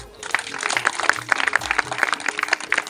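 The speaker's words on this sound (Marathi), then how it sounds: "एक जोरदार टाळ्या होऊ द्या" Audience applause at a community gathering speech honoring Dr. Babasaheb Ambedkar, a dense, lively burst of many hands clapping close by, steady and unbroken after a brief start.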